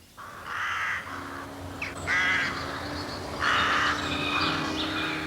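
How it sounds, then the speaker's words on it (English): Harsh cawing cries of a crow-like bird in a dark wood, three or four loud calls spaced over a few seconds, heard close against a quiet background. "All you could hear was the cry of a bird."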